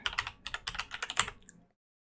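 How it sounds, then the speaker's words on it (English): Fingers tap out a URL on a computer keyboard in a quick close burst of about a dozen clicky keystrokes that stops abruptly into silence. "Type in the URL"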